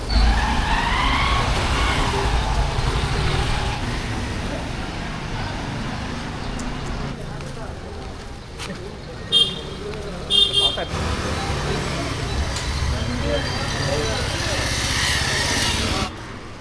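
Kathmandu street traffic with motorbikes, scooters and rickshaws, a steady engine rumble and road noise passing close, with a few short horn toots near the end.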